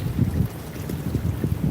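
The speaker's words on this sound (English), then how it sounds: "It's so windy." Strong wind on the Blackpool promenade in the rain buffets the microphone with low, pulsing rumbles and a constant rushing roar.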